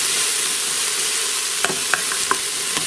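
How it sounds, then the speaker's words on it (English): Three cloves of minced garlic sizzle in a pan, a steady close hiss broken near the end by a few sharp clacks of a utensil stirring it around. "I've got 3 minced cloves here. Gonna stir all that around. Let that cook up for a moment."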